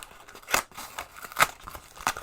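Opening a mystery football shirt parcel: a few sharp snips and rustling tears of packaging, three distinct bursts over a couple of seconds, close and fairly quiet with no talking.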